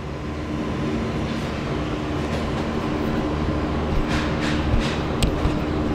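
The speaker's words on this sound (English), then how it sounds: "all that noise is from a factory that we have here on the other side" Steady, loud machinery drone from a factory across the street, a continuous low rumble with faint clanks and hiss over it and no talk.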